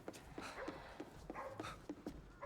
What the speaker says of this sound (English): I'm hearing dog.